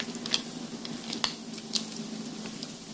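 Bacon and potatoes frying in hot oil give a steady, close sizzle, and sharp pops and spatters break through it at irregular moments. No one talks.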